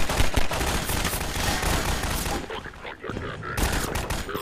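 Dense, loud gunfire in the shooter game Half-Life 2, continuous automatic bursts with a short gap near the end, close and under occasional talk.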